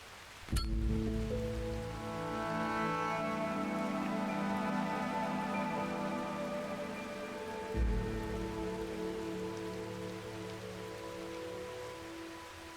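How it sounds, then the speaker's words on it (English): Steady rain falls in the video game Lempo, a constant close patter over a sustained tonal musical drone, with a soft thud partway through. "How is it raining when there are no clouds?"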